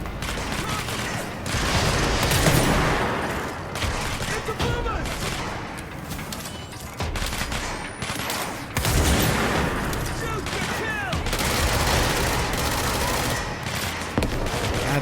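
Sustained heavy gunfire from a weapon in the action game Control, continuous dense shooting with booming impacts and crashes, loud and close, with someone talking over it.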